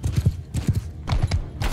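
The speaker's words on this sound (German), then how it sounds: "Oh, ein Pferd." In the video game Mount & Blade II Bannerlord, horse hooves clip-clop in quick paired beats, a close, fairly loud trotting rhythm with no voices over it.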